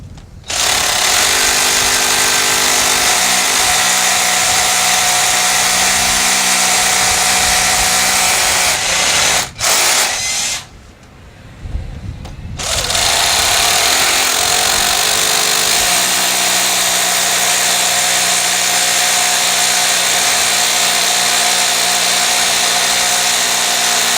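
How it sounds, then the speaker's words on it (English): A loud, sustained SDS power drill grinds continuously into masonry, breaking off briefly midway before starting up again at full intensity. "you're drilling into masonry, you need an SDS drill"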